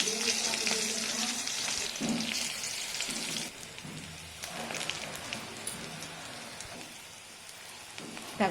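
Green chillies sizzle and crackle in hot oil in a pan for cauliflower bhaji, a dense spitting hiss that is strongest early on, then thins to scattered pops with occasional low voice sounds.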